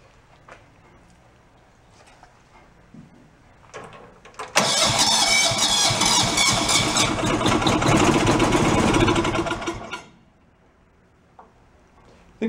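A salvaged John Deere engine, once thrown in the trash, cranks and catches into a loud steady running roar for several seconds, then cuts off, with quieter shop sounds before and after.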